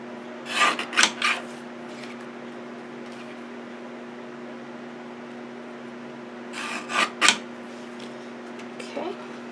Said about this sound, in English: I'll go ahead and trim these before I